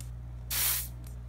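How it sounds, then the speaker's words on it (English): A room spray gives one short pressurized hissing burst, close and fairly loud, followed by a faint second puff over a low steady hum. "Favorite room spray."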